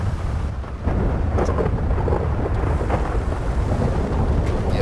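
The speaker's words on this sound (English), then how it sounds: "We can deal with thunder" Deep, sustained video game thunder rumbles steadily with rain-like hiss over it, loud and continuous throughout, with no voices, in Grand Theft Auto V.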